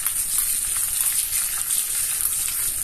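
Curry leaves and mustard seeds frying in hot coconut oil for an Onam sadya cucumber pachadi, giving a loud, continuous crackling sizzle with scattered sharp pops and no talking.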